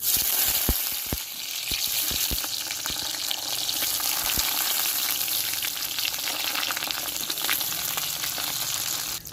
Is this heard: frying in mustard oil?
yes